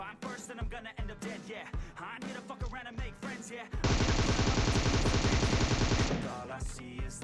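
Gunfire from the PUBG Mobile video game, first scattered single shots, then a long continuous burst of automatic fire for about two seconds, loud and close, with no speech.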